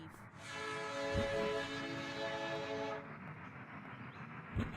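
A train horn in a video game sounds a long, steady tone over rumbling rail noise as the train departs, cutting off after a few seconds while the rolling engine sound continues.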